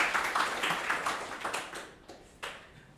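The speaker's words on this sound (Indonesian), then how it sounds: "Tepuk tangan untuk temannya." Brief, light applause from classmates in an Indonesian classroom or lecture on digital transformation, a scattering of nearby claps that thins out and fades within a few seconds.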